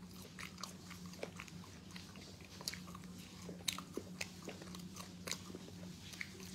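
Someone chewing tough meat from egusi soup eaten with bread, close to the mic: wet, irregular bites and crunchy mastication clicks repeat over several seconds against a low steady hum, with no talking.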